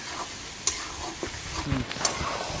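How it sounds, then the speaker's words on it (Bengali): Duck meat with spices and dried chilli powder is stirred in a hot oiled pan, a spatula scraping and tapping in uneven strokes over a constant sizzle heard up close. "দিয়ে আমি সব মশলাগুলো ভালোভাবে মিক্স করে নেব।"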